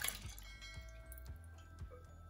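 Tamarind water for a tamarind-date chutney dripping and trickling through a strainer into a pot, a steady run of soft liquid drips and splashes close by with no talking.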